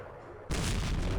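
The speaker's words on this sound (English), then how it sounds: "Our artillery hit." A loud, sudden broadband boom from an artillery shell exploding in the Vietnam War strategy game Campaign Series Vietnam erupts after a half-second of quiet and rumbles steadily to the end.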